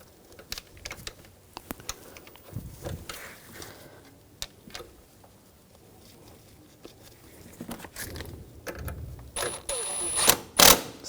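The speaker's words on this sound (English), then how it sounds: "Now get this screw in." A screw is driven home on the front upper control arm of a 2004-2009 Audi A4 Quattro, with a series of close ratcheting clicks and metallic tool taps in uneven bursts, ending in a louder clattering rattle.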